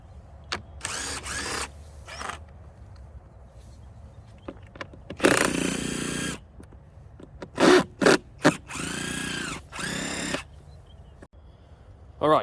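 Power tool work removing 10 mm and Phillips bolts from the air box of a Polaris Indy 680 snowmobile, several loud close bursts of whirring with faint clicks and scrapes in the quiet gaps between them.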